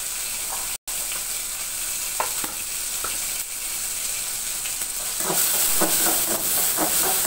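Carrot and other vegetables sautéing in a pan in a village-style kitchen, a steady close sizzle with scattered stirring clicks that thickens and grows louder near the end.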